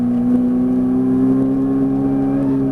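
A Ferrari 458 Italia's engine holds a loud, steady drone under full throttle on a track, its tone climbing only slightly over a couple of seconds, with no talk.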